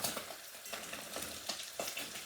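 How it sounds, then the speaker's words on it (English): Plantain frying in a pan in a home kitchen, a steady close sizzle with periodic crackling pops and faint stirring or utensil scrapes, no voices. "So I'm gonna start frying the plantain."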